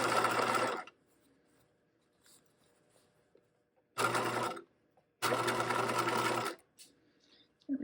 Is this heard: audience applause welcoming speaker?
no